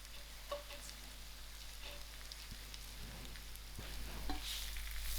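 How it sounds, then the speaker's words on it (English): Diced patha, a ready-made ingredient for sour dhal, frying in a pan: a soft, steady sizzle that swells slightly toward the end, quiet and with no voices. "This is my patha, which I diced in small cubes, and I'm gonna throw it in to fry out."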